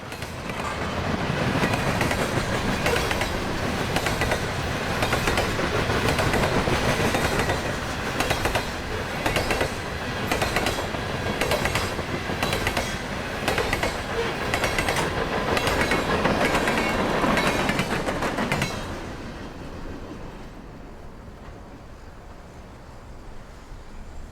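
A long CSX freight train rolls past close by in northwest Indiana in early December, with a steady heavy rumble and rhythmic clacking wheels, then fades to a quieter hum near the end.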